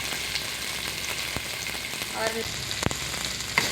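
Chopped onion fries in hot oil with a steady, dense crackling sizzle up close, broken by a sharp clack of a utensil near the end. A voice speaks briefly underneath.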